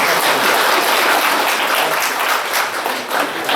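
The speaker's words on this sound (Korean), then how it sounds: "박수." A church congregation applauds during an ordination thanksgiving service. The clapping is loud and sustained throughout, a thick wash of many hands with a slight swell and dip near the end.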